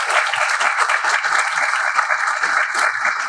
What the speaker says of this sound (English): let's give our royalty another big round of applause for being here.